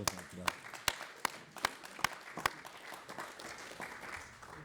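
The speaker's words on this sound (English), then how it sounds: "Let's give ourselves another round of applause." Applause at a sister cities agreement signing ceremony with Windhoek, a few people clapping, the separate sharp claps loud and fairly close over a low murmur of voices in the room.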